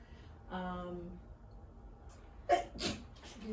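A single sharp sneeze bursts out, preceded by a short voiced inhale, then a quieter follow-up breath; close and fairly loud.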